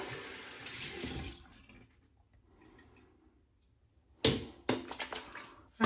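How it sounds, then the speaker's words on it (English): Water poured onto a blooming Opuntia cactus, a close splashing trickle that fades to near silence, then returns in several loud, uneven bursts near the end. "Put some water on it for a bit."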